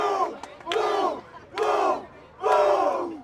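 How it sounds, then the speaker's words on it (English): A baseball crowd at the SMAC championship game between Leonardtown and La Plata roars in three or four loud surging bursts of cheering and yelling, close and full, with brief lulls between. "Leonardtown crowd really getting into it here after that last half inning"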